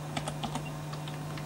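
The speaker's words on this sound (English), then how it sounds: "So I'll type in" Soft, quick keystrokes on a computer keyboard, a short burst of taps followed by a few lighter ones over a steady low electrical hum.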